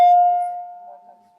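A school bell sounds in a classroom, a single clear sustained tone that starts loud and gradually decays, with faint murmuring beneath it.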